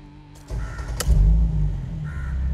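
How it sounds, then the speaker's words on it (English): Mercedes-Benz E 400 Cabriolet with a twin-turbo V6 and custom exhaust firing up: a starter whirr, then a sudden low rumbling catch and a brief rev before settling into a steady idle, heard close by. "Now, let's start the car."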